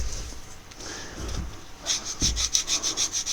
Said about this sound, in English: this sandpaper isn't enough to take a lot off